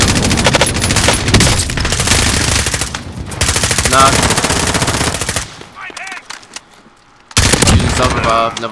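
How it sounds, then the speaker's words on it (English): Loud rapid automatic gunfire from a Call of Duty Warzone (Modern Warfare) battle royale match, sustained bursts that break off briefly around the middle before resuming, with voices talking over it. "They're shooting at somebody else."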